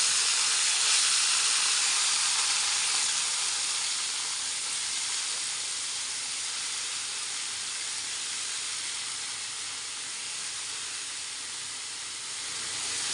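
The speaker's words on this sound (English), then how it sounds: "Now we will add the breadfruit in it." Chunks of breadfruit hit a hot pan with curry leaves and hing, setting off a loud, continuous hiss of sizzling that holds steady for several seconds and eases slightly midway.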